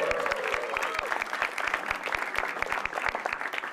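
An audience at a televised stand-up comedy show applauds, steady dense clapping with a rhythmic beat of distinct thumps running underneath, moderately loud and without talk.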